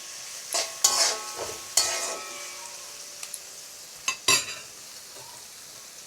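Onion, chopped garlic and ginger paste with five-spice frying in a pan, a bright sizzle broken by several sharp stirring scrapes and clatters, with quieter gaps between bursts.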